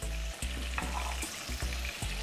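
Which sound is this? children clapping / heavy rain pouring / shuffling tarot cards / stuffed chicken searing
stuffed chicken searing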